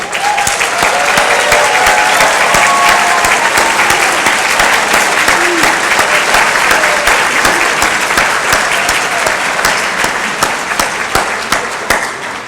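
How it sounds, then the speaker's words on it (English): Loud, sustained applause from a large audience at a county Teachers of the Year ceremony, a thick steady roar of clapping that barely wavers, with faint voices and cheers mixed in throughout. "our first round of applause for our 22 Teachers of the Year"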